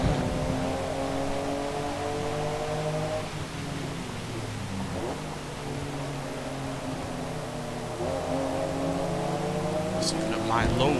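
An old, naturally aspirated inline-six engine revs hard in Forza Motorsport, a loud sustained drone whose pitch climbs, drops and climbs again while a person talks over it.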